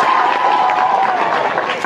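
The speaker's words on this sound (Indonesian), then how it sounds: "Kasih tepuk tangan." An audience at an Islamic school lecture applauds, a dense wash of clapping with some crowd murmur, steady and fairly loud throughout.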